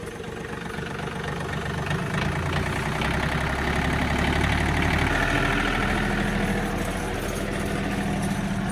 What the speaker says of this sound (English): So we're going to throttle up the tractor, then we'll start adjusting our return valve,